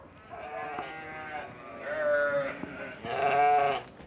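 Sheep rescued from mistreatment bleat on a farm sanctuary, three drawn-out wavering baas in succession, fairly close and clear over a quiet outdoor background.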